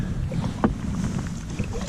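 A solo canoe moves down a river section of the Lower Derwent near Keswick, with a soft paddle splash standing out against steady wind and moving water.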